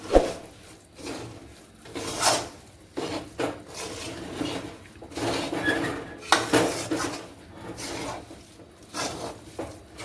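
A spoon scrapes and clinks against a pan while almond burfi mixture is stirred into jaggery, giving irregular metallic scraping strokes and knocks, close and fairly loud, with no voices.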